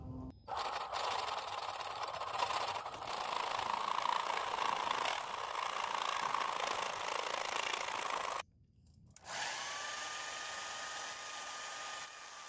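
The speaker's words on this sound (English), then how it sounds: "you can cut off these bolts with a reciprocating cordless saw like this" A cordless reciprocating saw cuts bolts off a kids' pedal bike being turned into a balance bike, giving a loud steady whining, rasping drone that cuts out briefly near the end and then resumes.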